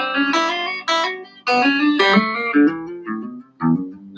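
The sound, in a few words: guitar triplet picking exercise with hammer-ons, second string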